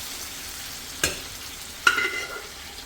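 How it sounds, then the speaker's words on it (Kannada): Kara ghee pongal mixture is stirred in a pan over a low flame, giving a faint steady sizzle with two sharp spoon taps against the pan. "ಇದೆಲ್ಲ ಚೆನ್ನಾಗಿ ಮಿಕ್ಸ್ ಮಾಡ್ಕೊಳ್ಳೋಣ"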